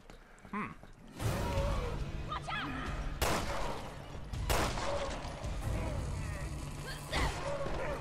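Gunfire aimed at a key hanging out of reach in Resident Evil Revelations 2, sharp loud shots breaking through a busy game soundscape of creaks and effects, with a voice speaking over parts of it.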